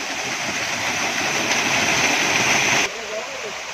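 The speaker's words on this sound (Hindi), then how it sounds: "देखिए जी, पानी गिर रहा है," Steady loud roar of the Samrala waterfall, water falling from above, a dense continuous rush heard close, dropping suddenly in level near the end.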